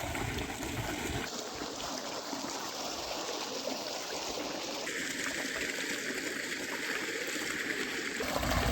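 Water gushes steadily from a 700-foot borewell, a continuous close rushing and splashing flow that holds constant throughout without pause.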